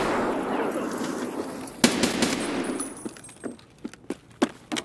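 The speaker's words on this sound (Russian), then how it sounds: "Кидаю гранату!" A grenade explosion in the shooter game Escape from Tarkov, a sharp burst followed by scattered cracking reports and debris-like pops that fade out over a few seconds.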